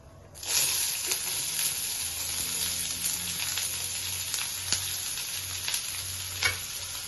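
Chopped onions and curry leaves fry in oil for a raw banana fry, making a loud, steady hiss that starts abruptly and continues with occasional stirring clinks and low background hum.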